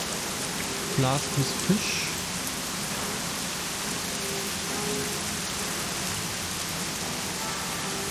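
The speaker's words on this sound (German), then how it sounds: "Oh, nicht schon wieder Regen." Steady rain from the SteamWorld video game falls throughout as a continuous wash of patter, with a few brief game sounds and a short stretch of speech early on.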